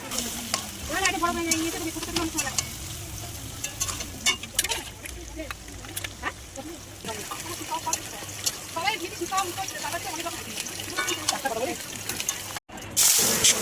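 Spiced mutton stir-fried in a kadai gives a busy, close sizzle with repeated spatula scrapes and clatters throughout, and voices can be heard in the background now and then.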